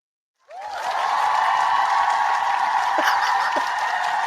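Audience cheering and applause swell up suddenly from silence into a loud, sustained roar of clapping and shouting that holds steady to the end, with a few whoops rising out of the crowd.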